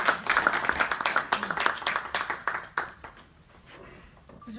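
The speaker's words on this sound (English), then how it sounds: "Please come, Christine Power, with your round of applause." Audience at a Pakistani American Think Tank gathering in New York claps to welcome a speaker. Crisp individual claps ring out close and lively for about three seconds, then thin out and fade into quiet room tone.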